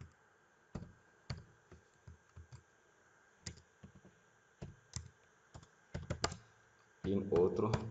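Typing on a computer keyboard, scattered close key clicks in short irregular clusters, quiet and distinct, with a denser rattle of keys at the end.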